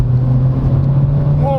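A 2022 Honda Civic turbo with a CVT accelerates in sport mode, a loud, steady engine drone held at near-constant pitch from inside the cabin, with a brief voice at the very end.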